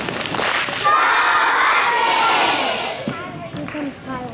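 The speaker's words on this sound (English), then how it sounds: "Let's give them a big Husky cheer." A school crowd of children at a morning meeting lets out a loud, sustained cheer for about three seconds that then fades into scattered shouts.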